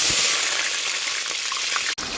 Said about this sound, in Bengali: তো তেল গরম হয়ে গেছে, এখন আমি এর মধ্যে পেঁয়াজ দিয়ে দিব